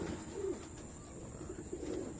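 Racing pigeons back from a 73-kilometre pooling race in Baras, Rizal coo softly in a few low, brief bursts over quiet, steady background hiss.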